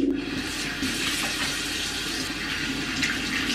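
Tap water runs steadily into a sink as makeup is washed off, a close, even rushing splash that continues without pause and without any talking.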